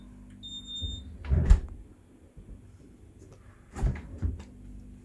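A fridge door swings shut with a soft thud, followed a few seconds later by a second closing bump, while a faint high door-alarm beep sounds at the start; the room is otherwise quiet.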